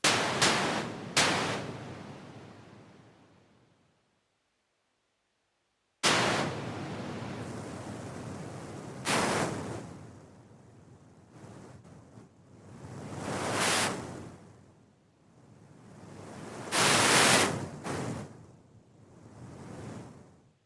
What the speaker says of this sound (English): this one's just about white noise and about building texture